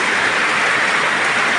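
Rain pours down after a long hot dry spell, a dense, steady hiss of falling water that stays loud and unbroken with no voices.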